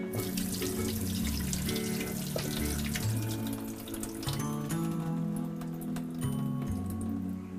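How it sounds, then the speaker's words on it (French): Running water pours steadily from a kitchen tap into a pot of rice for rinsing, a continuous splashing, gurgling flow that stays close and fairly loud throughout, with no voices over it. "Ensuite, on verse l'eau."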